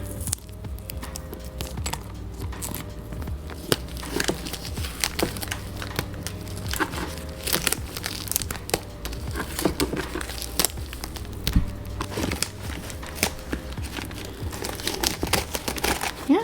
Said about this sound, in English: A little tape removal for you guys.